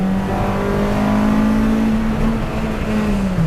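A track-focused Acura RSX engine drones loudly and steadily under acceleration out of corners, its pitch holding high before dipping slightly at the end, close and continuous.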